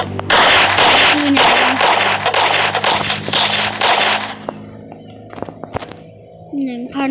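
A rapid series of loud, sharp gunshots in a video game fires over about four seconds, followed by scattered clicks and quieter game sounds, with people talking over it.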